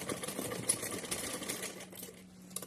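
A sewing machine runs in a steady continuous whir, stitching lace onto a cotton summer dress for a small Laddu Gopal idol, close and uninterrupted with no voices.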